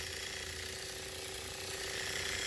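A 3D printed pulse motor rotor spinning, a steady fast mechanical clicking whir, close and fairly faint, with no voices.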